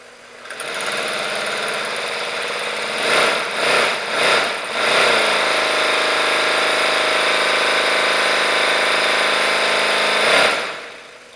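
A small visible V8 model engine starts with a click and runs, giving a fast, buzzing, sewing-machine-like whir at steady pitch, with a few surges in speed before it settles and then stops near the end.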